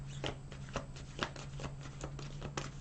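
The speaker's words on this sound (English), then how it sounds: "So I'm going to shuffle these a few times." Tarot cards riffled and shuffled by hand, a soft papery rustle with crisp slaps recurring about every half second, close and steady with a faint low hum underneath.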